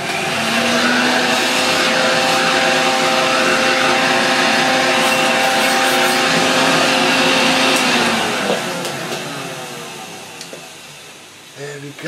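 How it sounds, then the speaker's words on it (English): Vacuum cleaner hoovering a graphics card during a PC upgrade, a loud steady motor whine with a tonal hum that holds for about eight seconds, then winds down and fades out near the end. "Give this card a bit of a hoover."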